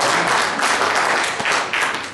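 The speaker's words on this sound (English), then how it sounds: "I hope you're applauding because I got it right" An audience applauds a preacher during a sermon, loud, dense clapping from many hands nearby, steady throughout with slight swells and no voices over it.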